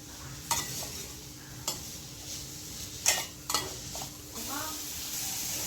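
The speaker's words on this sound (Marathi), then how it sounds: "दोन मिनटं छान तुपावर परतून घ्यायचं आपल्याला" Soaked cashews sauté in ghee with a quiet, soft sizzle, broken by a few sharp clicks and taps of a spoon against the pan, heard close and without talk.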